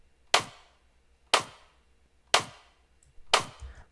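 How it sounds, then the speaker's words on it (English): Four evenly spaced, punchy clap-and-snare drum hits processed with gritty parallel compression, each a sharp crack with a short decaying tail, the last one rougher and fuller, over near silence. "let's combine this clap and snare with that return track and hear how gritty it sounds"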